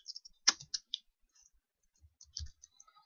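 Quiet typing on a computer keyboard: a sparse, irregular run of light clicks and taps, close by, with short pauses between bursts.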